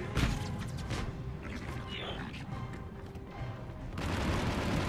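Rapid gunfire and blasts from a Mass Effect 3 firefight against Turians crackle through a dense battle mix, with bursts building louder toward the end.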